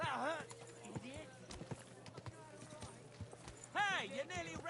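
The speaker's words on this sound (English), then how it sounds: "The horse goes where the horse wants." Horse hooves clip-clop in the Kingdom Come Deliverance 2 video game, a run of light, fairly close steps beside whinny-like calls at the start and near the end, with no talk over them.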